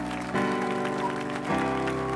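A church congregation applauds and cheers in praise of Jesus, with steady clapping and voices swelling together at a moderate distance, rising in two waves.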